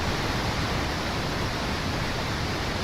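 Synthesized creek or waterfall effect generated in Magix software: a steady, dense broadband rush of noise like running water, constant in level throughout with no variation or voices.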